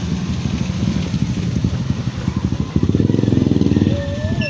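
A small motorcycle engine struggling to start in an outdoor market setting, sputtering in uneven bursts and then settling into a steadier, faster putter, loud and close with wind noise.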